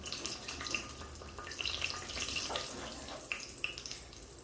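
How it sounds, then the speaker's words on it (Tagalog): Hot water pours steadily into a cooking pot for a fish and vegetable soup, a continuous splashing and gurgling stream at close range with no talking. "Lagyan natin ang mainit na tubig."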